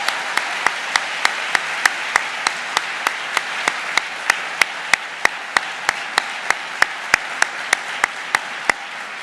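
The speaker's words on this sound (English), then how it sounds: "Let's give her another round of applause." An audience at a college event welcoming a president-elect applauds the retiring president with a steady, sustained round of clapping. Sharp, evenly spaced claps stand out above the crowd throughout, with no talking.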